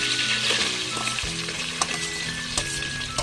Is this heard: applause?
no